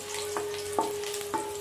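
Cumin and chopped green chili crackle in hot oil as a spoon stirs them, with a soft continuous sizzle and a few brief scraping strokes.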